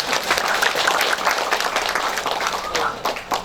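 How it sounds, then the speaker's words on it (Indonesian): A church congregation at an Indonesian thanksgiving Mass breaks into steady applause, a dense wash of many hands clapping at moderate volume with voices mixed in. "Tepuk tangan Bapak."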